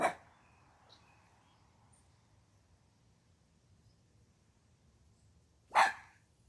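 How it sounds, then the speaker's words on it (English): Two short, sharp dog barks, one at the very start and another about six seconds later, separated by near silence. "Don't mind the dogs"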